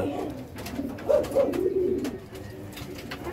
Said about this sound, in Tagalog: Yan ang mga kalapati.